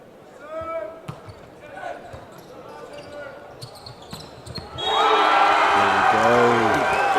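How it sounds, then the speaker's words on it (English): A loud crowd at a school volleyball match between Tauranga Boys' College and Rangitoto College erupts into sustained cheering and whooping midway, after quieter voices and ball bounces. "The big cheer."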